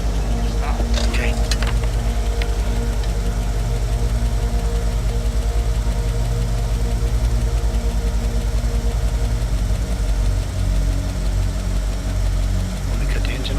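A vehicle engine idles steadily and close by, a low continuous rumble with a faint knocking throb that runs throughout, joined by a few brief knocks and clicks.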